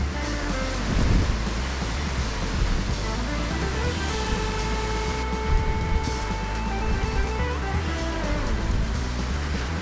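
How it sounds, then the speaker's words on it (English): Fast-moving water rushing beside a wet mountain bike trail at Northfield Brook Lake after rain, a steady loud broadband roar heard from close by while riding. "The water's really moving today."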